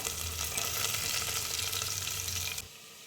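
Crushed ginger and garam masala fry in a pan with a steady, close sizzle that runs continuously and then cuts off abruptly near the end.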